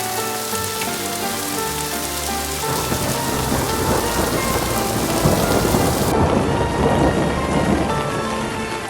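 Steady heavy rain pours down in Bandipur, Nepal, with a low continuous rumble of thunder beneath the dense, close hiss of falling drops.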